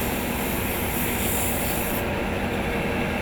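Sandpaper rubbing against spinning wood on a woodshop lathe, a steady close abrasive hiss that runs unbroken throughout and brightens slightly midway.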